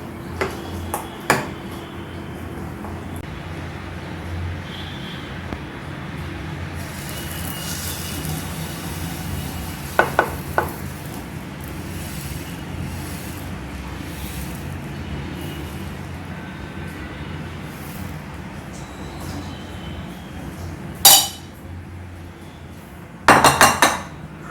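Bottle gourd uttapam batter with Eno is stirred in a bowl: a mostly quiet, soft background broken by scattered sharp clinks of a spoon against the bowl, with a quick cluster of knocks at the end.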